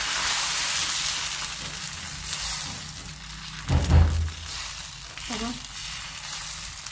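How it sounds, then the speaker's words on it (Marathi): Dosa batter mixed with peanut powder sizzles on a hot pan, a soft steady frying hiss with a brief louder clatter midway, close and fairly quiet. "आता याच्यात मी शेंगदाण्याचं कूट घातलेलं आहे तरी डोसा पसरून दाखवतो तुम्हाला"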